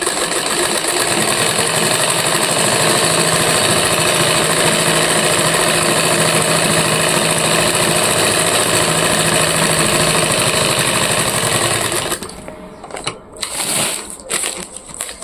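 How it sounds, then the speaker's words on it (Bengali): A sewing machine stitches a ribbon strap onto a handmade bag, running steadily and loudly for about twelve seconds before stopping abruptly, followed by a few scattered handling noises. "এখন এটাকে সেলাই করবো।"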